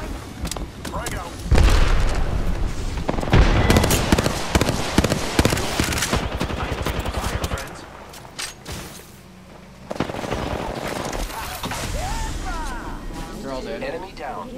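Explosions and gunfire erupt in an Apex Legends fight, with loud booms and rapid shots in a dense run, a brief lull, then more firing, as players talk over the combat.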